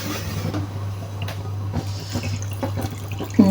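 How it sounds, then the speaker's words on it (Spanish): Water pours and drips into a pot of minestrone broth in a kitchen, a soft, close trickling over a steady low hum. "Por ahora vamos a dejar este caldo y le vamos a agregar un poco de agua."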